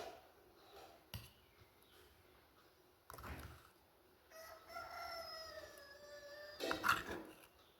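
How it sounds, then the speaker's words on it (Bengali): A rooster crows from a distance behind a home kitchen, a drawn-out cock-a-doodle-doo that rises and falls, with scattered household knocks around it. "ব্যাকগ্রাউন্ডে অনেক আওয়াজ পাবে, মুরগি ডাকে"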